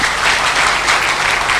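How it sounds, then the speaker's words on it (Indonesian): Dense, loud audience applause for Pak Nabil at a distributor training session, continuous clapping filling the whole moment without a break. "Tepuk tangan, Pak Nabil."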